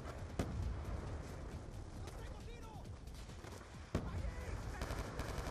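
Rapid gunfire from floating guns in the Wii U video game Clerium, a steady dense clatter of shots with two sharper louder bursts standing out, under game noise.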